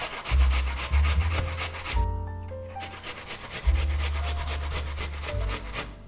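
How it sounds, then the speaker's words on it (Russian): An apple is grated on a coarse grater, giving repeated rhythmic rasping strokes with a brief pause partway through, close and fairly loud. "И натираем яблоко на крупной терке."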